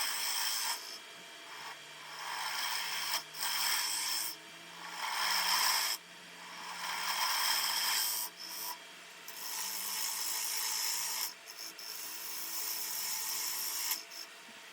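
A skew chisel laid on its side cuts a dovetail into a bowl spinning on a wood lathe, giving a loud, continuous rasping scrape in long strokes separated by short pauses, with a low motor hum underneath.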